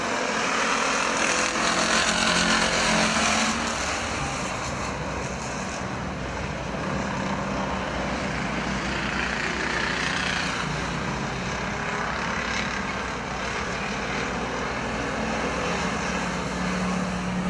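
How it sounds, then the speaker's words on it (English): Factory stock race cars racing on the Perris Auto Speedway oval during a main event, a continuous loud roar of several engines blending together with slight swells as the pack passes. "Coming up to lap the 19 car of Carnish. Myers."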